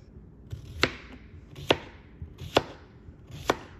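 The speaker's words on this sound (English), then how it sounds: "I'm gonna go ahead and cut this into chunks." A knife chops an English cucumber into chunks on a cutting board, four crisp evenly spaced thuds about a second apart, close and clear with no talk.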